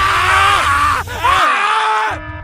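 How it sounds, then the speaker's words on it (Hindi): Agonised screaming and groaning from miners whose flesh and bones are melting, loud harmonic wails that waver and bend, with a brief dip mid-way before the anguished cries rise again, alone without talk. "यहाँ पर गूंजने लगती हैं उन माइनर्स की दर्द भरी चीखें"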